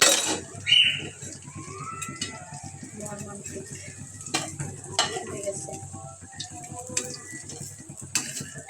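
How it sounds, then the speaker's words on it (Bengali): Bora fritters frying in a pan and stirred with a utensil, giving a steady sizzle with scattered metal clinks and scrapes against the pan, close by, while a person speaks over it. "তো এই তো আমার বড়াগুলো ভাজা হয়ে গেছে,"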